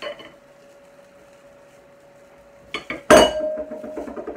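A steamed marmalade sponge pudding basin tipped over and lifted off on an AGA cooker, a faint steady hum, then a couple of soft knocks and a sharp ceramic clunk followed by light rattling clinks.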